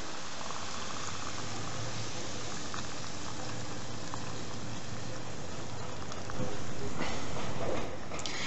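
Ossobuco broth with wine and cilantro boiling in water in a pot: a steady, dense bubbling and simmering hiss, close and fairly quiet, continuing throughout with a brief louder burst near the end.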